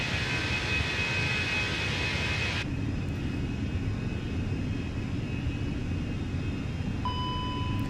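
Airbus A320 airliner engines in the Fenix A320 flight simulator give a steady, broad roar with a high whine. Partway through the clip the whine drops out and a faint tone enters, with no talk over it.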